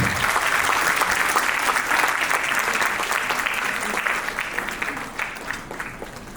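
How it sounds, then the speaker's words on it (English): An audience at a university alumni meet applauds a physics department head and world records holder as he comes up for an honor; full, sustained clapping that gradually thins and softens with a few scattered claps. "A big round of applause, please."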